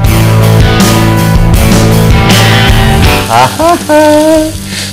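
Food fries in ghee in a pan on a stove, a loud, close, continuous sizzle, with a few short tonal squeaks and scrapes near the end.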